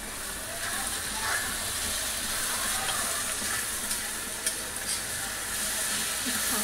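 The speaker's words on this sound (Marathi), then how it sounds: "कांदा टोमॅटो आता भाजून झालाय, त्यामध्ये थोडी कोथिंबीर टाकते अंड्याच्या भुर्जीसाठी।" Onion, tomato and coriander fry for egg bhurji in a steady, close sizzle that holds even throughout, with faint scrapes and taps of stirring on top.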